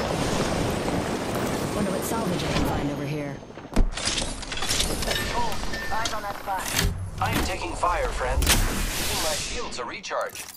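Weapons fire in the video game Apex Legends, played on a PS4 Pro. Sharp, loud shots and booms come in scattered bursts amid rushing wind-like game noise, with players talking throughout.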